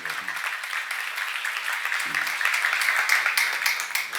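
A church seminar congregation applauds in a steady, moderately loud wash of clapping, with brief low voice fragments near the start and around the two-second mark.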